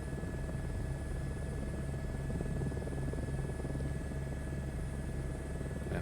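An H125 helicopter engine in the game Microsoft Flight Simulator, flying over Cradle Mountain, Tasmania, gives a steady, unbroken turbine drone with a constant tonal whine and low rotor hum throughout.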